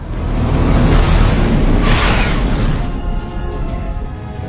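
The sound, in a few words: bomb bracelet exploding in action film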